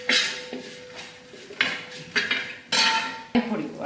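A spoon clanks and scrapes against a large metal pan while pickle is stirred, sharp knocks recurring every half second or so, close and fairly quiet.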